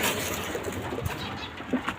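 Pigeons cooing softly with a brief flutter of wings, close by against a muffled background.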